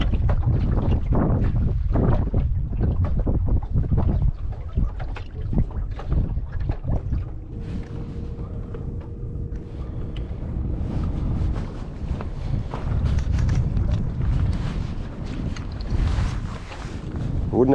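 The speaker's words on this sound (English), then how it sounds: "we got this northerly breeze coming down the Gulf and wind against tide" A northerly breeze blows across a small fishing boat in the Gulf, the wind buffeting the microphone in loud, irregular low gusts, mixed with water slapping and boat knocks throughout.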